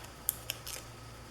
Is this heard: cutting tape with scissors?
yes